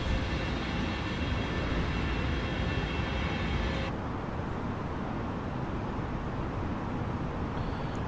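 Cockpit-level engine roar of an Icelandair Boeing 757-200 airliner in Microsoft Flight Simulator 2020, departing Keflavik, a steady dense broadband hum that drops slightly in brightness halfway through.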